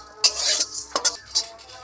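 Cumin and coriander seeds being dry-roasted in a dry pan rattle and scrape in a few short, close bursts as they are stirred, with no talk.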